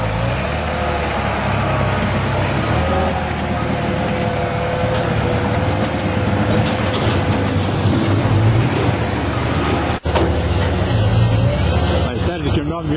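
A TF830B matting machine's engine runs steadily at low RPM, a continuous mechanical drone and rumble that holds for the whole stretch, with someone talking over it throughout.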